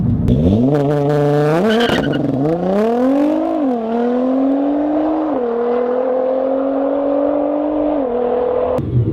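A Nissan GT-R launches hard with launch control, engine rising through quick gear changes with rising-and-dropping pitch steps, loud and close throughout with no talk.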